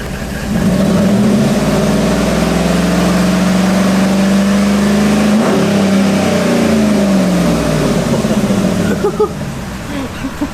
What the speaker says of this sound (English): We'll rev the piss out of it and then we'll see if it comes back